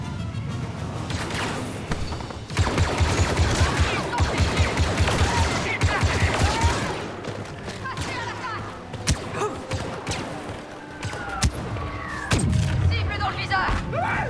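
In a Star Wars video game, walker cannons fire in rapid pulsing volleys of heavy booms and thuds, with scattered blasts and impacts afterward and voices talking in places.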